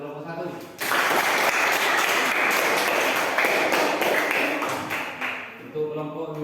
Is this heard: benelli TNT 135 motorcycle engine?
no